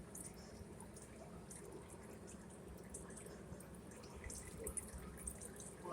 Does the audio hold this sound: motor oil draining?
yes